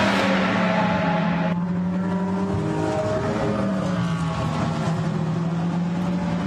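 GT race cars at the Barcelona circuit, engines droning steadily with shifting pitch as they pass and change gear, heard from a distance as a continuous roar.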